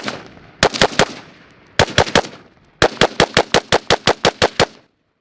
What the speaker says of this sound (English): I'll load up some rounds and I'll take some shots with this upper and see how I like it.